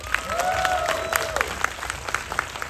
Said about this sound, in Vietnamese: Xin mời tràng pháo tay